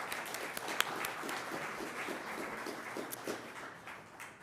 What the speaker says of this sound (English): Another round of applause for that esteemed panel tonight,